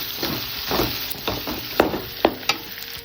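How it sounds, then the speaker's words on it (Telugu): A frying mix with coriander powder and chili powder is stirred in a pan, with a crackling sizzle and several sharp scraping strokes, the strongest toward the end, near and moderately loud. "కొద్దిగా ధనియాల పొడి, కొద్దిగా మిరప్పొడి అన్నీ వేసి బాగా ఒకసారి కలుపుకొని"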